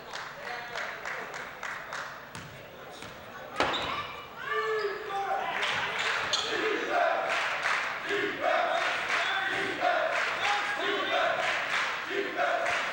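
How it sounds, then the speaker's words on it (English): High school basketball fans at a boys' game cheering for defense, a loud sustained crowd roar with rhythmic chanting and clapping, broken up by a sharp thud of a bounce or slam, while an announcer talks over the noise. "Got the fans here cheering for some defense."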